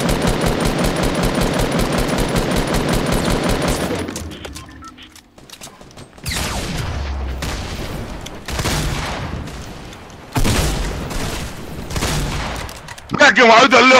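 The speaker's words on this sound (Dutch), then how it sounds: "Ik heb hem uit de lucht geschoten" Rapid automatic gunfire in Fortnite fires in a long continuous burst, then breaks into shorter loud volleys separated by brief gaps, with a final burst at the end.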